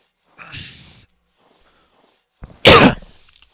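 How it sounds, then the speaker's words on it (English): A man coughs twice: a short muffled burst first, then after a pause a louder, harsher cough close to the microphone, with silence in between. "Man, I still got that cough."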